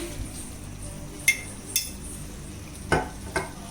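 A spoon stirs a masala mixture with curd, making a few sharp clinks and scrapes against the vessel over a quiet, faint background.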